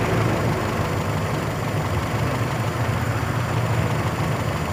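A Toyota car engine idles roughly, a continuous low, rumbling drone that holds steady at close range with no talk over it.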